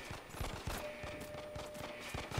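Rapid bursts of gunfire in The Evil Within 2 horror game, dense repeated shots overlapping in a continuous loud barrage with no pauses across the whole stretch.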